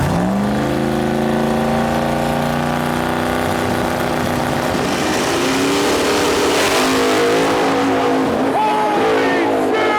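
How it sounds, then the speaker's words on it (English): A nitrous S10 and a big boosted Silverado drag racing at a no-prep shootout in Central Alberta, loud engines revving and rising in pitch as they launch, with tire noise and a crowd talking and shouting underneath. "we got a nitrous S10 and we got a big boosted Silverado"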